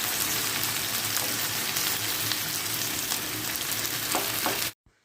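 Potato and onion omelette frying in oil over a low flame, a steady close dense sizzle with faint scraping, cutting off abruptly near the end.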